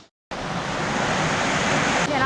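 A waterfall in the Phu Phan mountains roars in a dense, steady rush of water, loud and close after a brief silence at the start.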